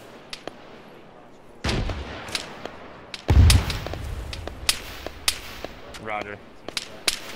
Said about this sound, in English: we're taking a lot of fire southwest.